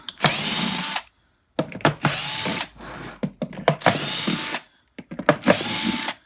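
Cordless power drill backing out posidrive screws from the casing of a wet Numatic Henry vacuum cleaner, in three loud whirring bursts separated by short pauses, with quick stop-start clicks between them.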